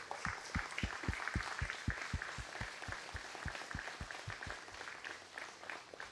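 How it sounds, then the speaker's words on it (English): An audience at a farm recognition ceremony gives a round of applause. Scattered hands clap over a lighter crowd wash, with a few close, sharp individual claps in a quick, uneven rhythm that thins out toward the end. "we can give you a round of applause recognizing your certification"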